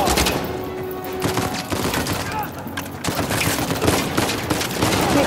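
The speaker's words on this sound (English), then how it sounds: "Wait, I'm getting shot." Gunfire in the video game Uncharted 4, dense bursts of shots rattling almost continuously, with a voice commenting over the game audio.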